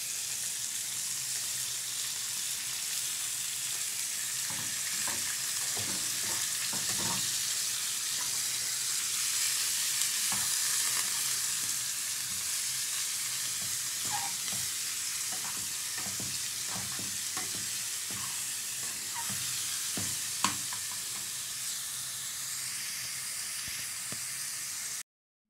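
Small pieces of meat fry in a pan for a simple fried-meat dish, giving off a steady close sizzle and hiss as they release their water, with occasional stirring clicks and no talk.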